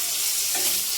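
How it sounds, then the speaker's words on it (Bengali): Onions frying in oil in a kadai, the pan previously used to fry crab; a steady, close hiss of sizzling fills the short moment without pause. "এখন ঠিক সেম কড়াইয়ে আমি তেল দিয়ে দিলাম। পেঁয়াজটা ভেজে নিব।"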